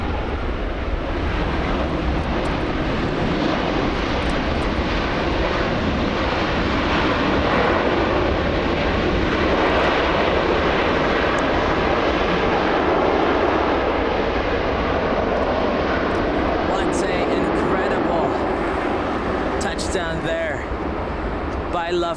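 Lufthansa Airbus A380 arriving at LAX, a steady, loud roar of jet engines that fills the whole stretch without letting up, with broadband rumble and a faint voice now and then.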